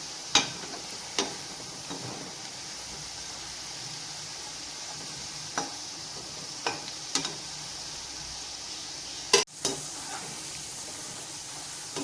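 Potatoes frying in a pan, a steady soft sizzle with a few sharp ticks and stir scrapes scattered across it, fairly quiet and without voices.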